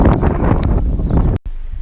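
Strong wind buffets the microphone at a campsite, loud roaring gusts with brief rustles, cutting out for a moment before resuming.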